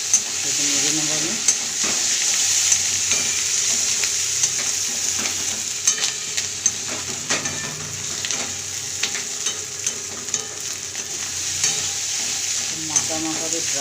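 A thick potato and fish roe curry, nearly dry, is stirred in a pan with a constant soft sizzle and frequent scraping knocks of the spoon against the metal.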